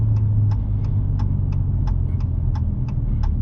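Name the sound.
car engine while reversing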